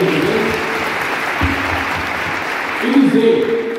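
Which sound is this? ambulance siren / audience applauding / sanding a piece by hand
audience applauding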